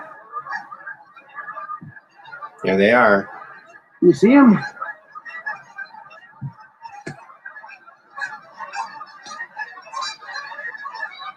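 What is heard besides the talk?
geese honking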